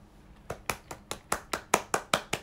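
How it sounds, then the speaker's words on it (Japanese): A single person claps about ten times in a steady, fairly quick rhythm, each sharp clap close and distinct over a quiet room. "拍手。"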